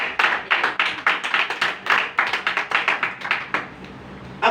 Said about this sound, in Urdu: زوردار تالی ہے۔